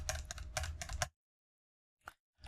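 Close computer keyboard typing while cutting and pasting code, a quick cluster of crisp key clicks, then silence, then two more isolated taps.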